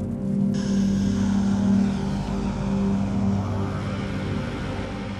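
Propeller airplane engine heard from on board before a skydive, a loud, steady droning hum with a throbbing low tone that continues without a break.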